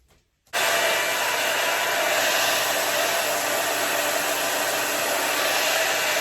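A hair dryer switches on after a brief quiet start and blows a loud, steady, close roar for several seconds while drying the lace of a straight wig, with no talking.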